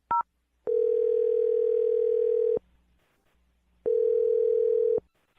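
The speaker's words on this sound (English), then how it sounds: "I'm going to dial his phone number now" A telephone line gives a short electronic beep, then two long, steady tones separated by a gap, loud and clear with no voices over them, as a call is placed.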